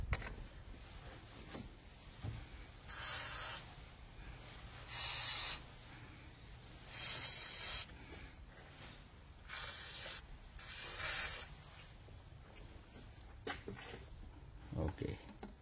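Penetrating oil is sprayed from an aerosol can onto the exhaust manifold bolts of a 2006 Nissan X-Trail, six or seven short, loud hissing bursts separated by brief pauses.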